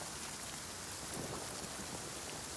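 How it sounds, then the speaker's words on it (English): A light drizzle falls on the White Horse Trail in Wiltshire, a faint, steady hiss of rain with no other sounds. "It's that kind of miserable drizzle."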